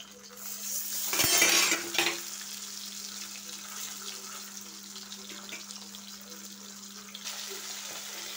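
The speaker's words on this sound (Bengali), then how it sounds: "তো আমি কড়াইতে আরেকটা মাছ ভাজতে দিয়েছি, তো এক পিঠ হয়ে গেছে, অন্যদিকে ভাজবো।" Bhetki fish fries in oil in a wok with a steady sizzle. Early on a loud burst of spatter and scraping marks the fish being turned, then the even frying hiss continues with no talking.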